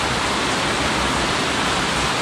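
Steady heavy rain falls in a dark outdoor spot, a dense continuous hiss that stays loud and even throughout, with no voices.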